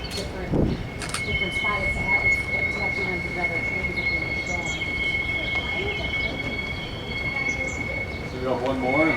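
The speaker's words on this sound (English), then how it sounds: "An eastbound grain train pulls in as a stack train paces it in the background." Eastbound grain freight train pulling in while a stack train paces it farther back in Nebraska or Colorado, a steady rolling rumble with sharp sustained wheel squeal, plus a metallic bang near the start.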